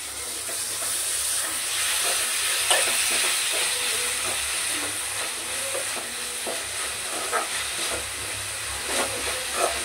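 Onion and coriander leaves fry together with dry fish in a pan, a close, continuous sizzling hiss broken by soft scrapes and small pops as the food is stirred, with no voices.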